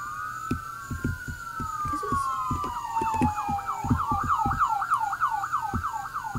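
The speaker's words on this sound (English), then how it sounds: "what is happening with all these sirens everywhere?" Several police sirens in the video game Mano County wail and yelp together, rising and falling continuously over a thumping, rhythmic background.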